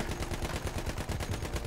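Sustained automatic gunfire from Battlefield 1 rattles in a fast, steady rhythm of evenly spaced shots, loud and continuous throughout with no talking.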